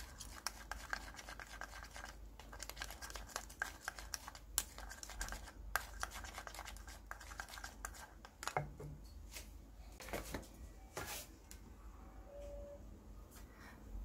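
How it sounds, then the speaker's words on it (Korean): Glycerin-laced rinse bar conditioner mixture stirred in a container, faint close scraping and light clicking taps that continue unevenly, quiet and with no voices. "마찬가지로 글리세린을 넣은 후에도 첨가물들을 잘 섞일 수 있도록 저어주세요."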